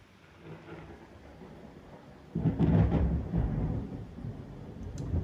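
Deep thunder during a rainstorm: a low steady rumble of rain gives way to a sudden loud, boomy crack that rolls on and slowly fades, with no voices.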